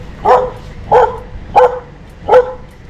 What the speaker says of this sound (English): What are you barking at me for?